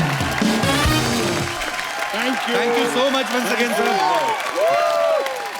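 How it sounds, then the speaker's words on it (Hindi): Studio audience applause and cheering on a Hindi TV comedy show, a broad crowd wash running throughout while someone speaks clearly over it. "एक बार सिन्हा परिवार के लिए जोरदार तालियां हो जाएं।"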